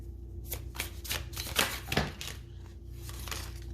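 Tarot cards are shuffled by hand in a quiet room, a series of soft riffling and slapping bursts at uneven intervals, fairly faint and close, with no voice.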